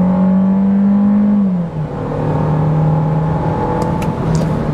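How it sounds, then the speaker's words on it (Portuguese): A Citroën C4 Cactus launches hard from a standstill with its tires squealing, the engine's loud, steady drone holding close throughout. "olha quanto o carro canta pneu aqui"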